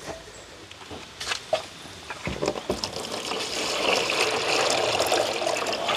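Water trickles and splashes into a cooking pot meant for soaking saltfish, starting as intermittent spurts and then settling into a steady, fuller pour.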